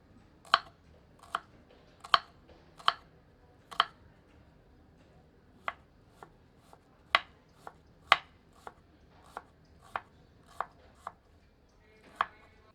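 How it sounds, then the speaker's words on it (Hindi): A knife finely chops a medium onion on a board, sharp distinct taps arriving in an uneven series of about fifteen strokes with short pauses between them, close and clear over quiet surroundings. "एक मध्यम आकार की प्याज को बारीक काट लेते हैं।"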